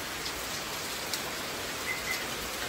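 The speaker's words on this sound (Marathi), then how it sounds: "पावस काय थांबचोच ना" Steady monsoon rain falling, a dense even hiss with a few faint drips and a distant bird chirp, no voices.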